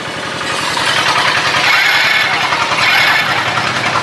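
A Hero Passion Pro motorcycle engine, after a wiring repair, fires up on its self-starter and runs. It makes a loud, close, rapid, rhythmic chugging that carries on steadily throughout.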